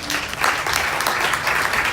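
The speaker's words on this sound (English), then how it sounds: "Give him a round of applause." An audience at a community meeting gives a steady round of applause, many hands clapping in a dense, fairly loud wash that holds for the whole stretch.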